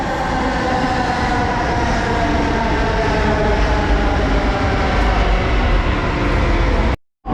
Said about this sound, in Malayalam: പറഞ്ഞുകൊണ്ടിരുന്നപ്പോൾ തന്നെ ട്രെയിൻ വന്നു